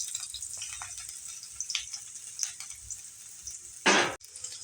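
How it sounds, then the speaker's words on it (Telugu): Carrots frying in reused oil, a soft continuous sizzle with scattered light crackles and a brief louder clatter near the end, close and fairly quiet. "మళ్ళీ అదే ఆయిల్లో మళ్ళీ క్యారెట్ యాడ్ చేద్దామండి"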